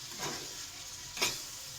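Boiled taro stolons and shrimp stirred in a hot frying pan: steady close sizzle with two brief scraping swishes of the spoon, soft and unbroken, no voices.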